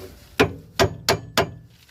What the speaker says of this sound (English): Just hammer it a little bit more.